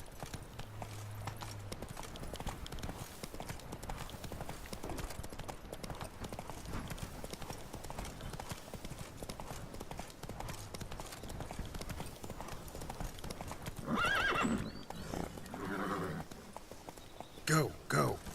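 Horse hooves clip-clop at a gallop throughout in The Witcher 3, a steady rapid rhythm under game music and effects, with a rider's voice calling out briefly.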